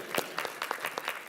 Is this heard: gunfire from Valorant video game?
no